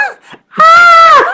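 A person's voice imitates the screaming bear from the film Annihilation, first with a couple of short vocal sounds, then one loud, sustained, strained scream lasting just over half a second.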